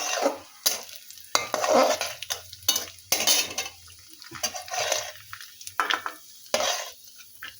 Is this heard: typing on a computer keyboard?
no